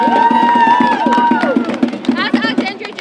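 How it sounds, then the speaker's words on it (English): A rally crowd at an impeachment protest cheers and shouts loudly, with voices, whoops and some clapping merging into a dense, continuous roar. "Give a round of applause for Lakshmi"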